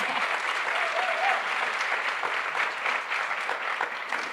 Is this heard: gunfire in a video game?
no